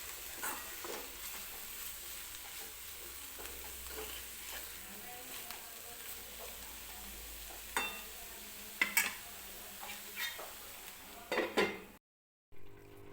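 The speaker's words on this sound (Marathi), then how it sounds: "आणि कूट टाकल्यानंतर परत एकदा 2-3 मिनिटं मी ही पात वाफेवरतीच शिजवून घेते" Spring onion greens mixed with ground peanut powder steam and cook in a pan, giving a soft, faint sizzle broken by several sharp clinks and scrapes of a utensil stirring against the pan.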